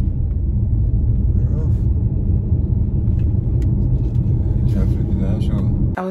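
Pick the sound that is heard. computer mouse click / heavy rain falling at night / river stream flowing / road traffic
road traffic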